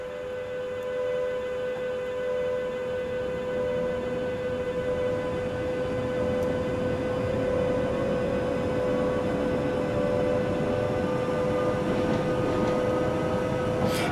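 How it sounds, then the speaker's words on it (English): A train passes at night in Train Simulator 2022, its long steady horn-like tone droning alone at moderate volume over a continuous rumbling roar of wheels on rails for the whole stretch. "the sounds of trains late at night is really cool"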